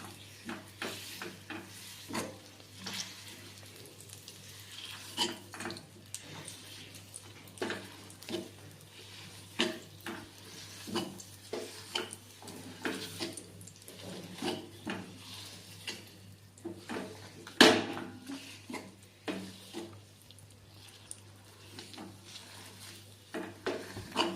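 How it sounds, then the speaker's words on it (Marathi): Dates are sautéed in ghee over low heat in a pan, with repeated soft scraping and clinking strokes from stirring. A faint sizzle sits underneath, close and quiet, with one sharper knock near the end. "तुपामध्ये हे खजूर आपल्याला छान परतून घ्यायचं आहे"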